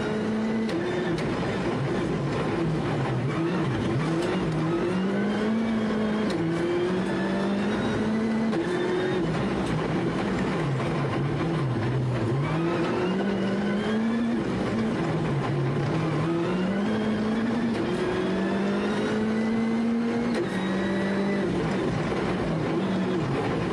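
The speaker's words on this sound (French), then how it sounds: "Il n'y a plus de puissance pour la Ford Fiesta R5 d'Alexei Lukyanuk" A Ford Fiesta R5 rally car's engine drones continuously at the Rallye des Açores, its pitch rising and falling with repeated revs and gear changes, loud and steady throughout.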